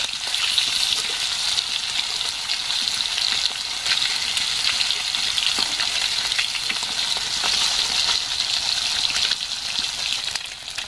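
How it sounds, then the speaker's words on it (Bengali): Catla fish frying lightly in mustard oil in a pan, a constant dense sizzle and crackle of hot oil close up, with faint stirring scrapes. "মাছটাকে খুব বেশি কড়া করে ভাজবো না, হালকা করে ভেজে নেব।"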